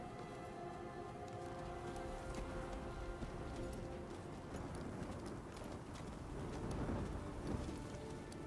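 Horse hooves clop through rain in Diablo 4, a steady soft patter of rain with quiet hoof steps under it, heard from a middle distance and growing a little louder toward the end.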